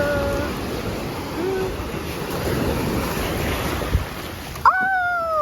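Sea waves wash and churn close by off Monaco as someone wades into the water, a steady rushing surf with wind buffeting the microphone and a couple of brief thumps near the end.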